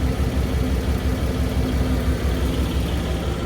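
A Porsche 911 GTS T-Hybrid with its exhaust valve open, giving a steady, dense low engine and exhaust drone, close and loud, holding at a constant idle-like level without revving.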